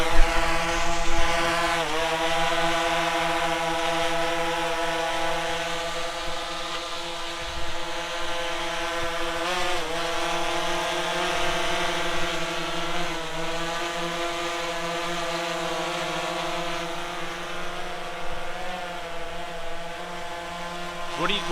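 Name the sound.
DJI Phantom 3 Professional drone taking off and flying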